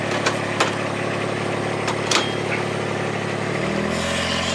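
A vehicle engine runs at a steady idle close by, giving a continuous low drone with a few faint knocks, then a slight shift in pitch near the end.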